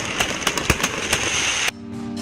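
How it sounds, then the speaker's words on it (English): Fireworks display over Darling Harbour, Sydney: a quick run of sharp popping bursts and crackles, fairly close, before the noise cuts off abruptly to quieter tonal background. "A must do is to see the stunning firework in Darling Harbour."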